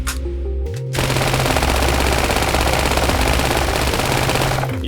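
Dense, loud rapid-fire gunfire and explosions from the stylized first-person idle shooter Shoot the Wall, a continuous barrage with synth tones underneath and no voices.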